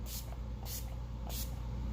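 Makeup setting spray misted onto a face in three short hissing bursts at an even rhythm, close and fairly loud over a low background hum, with no talk.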